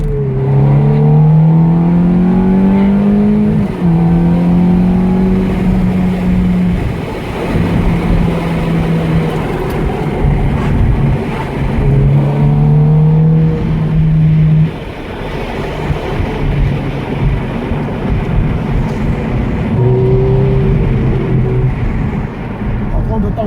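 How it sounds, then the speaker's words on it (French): A Ferrari F430 engine on a track, its revs climbing in repeated stepped pulls as gears change, loud and close throughout, with people talking over it. "Donc écoutez bien le moteur."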